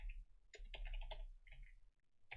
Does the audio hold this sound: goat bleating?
no